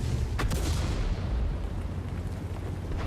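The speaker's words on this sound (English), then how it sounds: "the artillery's fired probably 2 or 3 shells at us now" Artillery shells fired at a tank in World of Tanks: a low, continuous rumbling roar with a brief sharper blast near the start, heavy and steady, with no talking.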